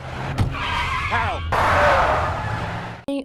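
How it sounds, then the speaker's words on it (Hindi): A car in a movie chase speeds and skids, with a rising tire squeal and engine roar that swells and cuts off abruptly near the end. "पुलिस का ध्यान भटकाने के लिए वो गाड़ी तेज चलाता है ताकि सब उसके पीछे आ जाए"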